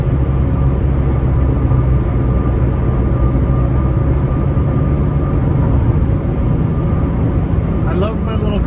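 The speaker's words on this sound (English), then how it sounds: "I love my little car, but there's a lot of road noise" Road noise fills the cabin of a small economy car, a steady, loud low rumble with a droning hum that holds unchanged throughout.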